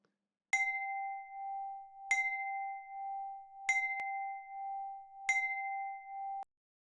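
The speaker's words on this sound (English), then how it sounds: "Here's the chime." Four struck notes from a physically modeled synthetic chime, each a bright metallic attack followed by a long, steady ringing tone, spaced evenly and heard alone until the last one is cut off.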